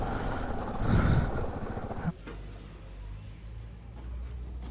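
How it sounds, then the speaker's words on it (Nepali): A scooter engine runs close by, revving with a throaty buzz at first, then dropping to a steadier low drone while idling or rolling along on a rural off-road outing. "अब चाहिँ स्कुटरमा जान्छु।"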